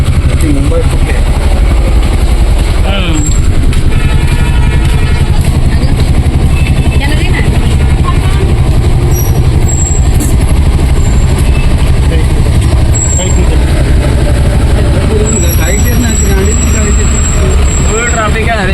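Heavy, packed road traffic on the Harihareshwar–Shrivardhan road: a loud, continuous rumble of nearby vehicle engines with passing trucks and buses, and people talking over it.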